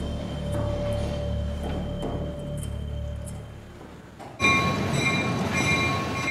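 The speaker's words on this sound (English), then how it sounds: "the beast, as the migrants call the train, gets underway" A Mexican freight train, the migrants' train called the beast, rumbles and creaks with low mechanical noise as it gets underway, then a louder, brighter grinding surge of metal wheels and cars takes over near the end.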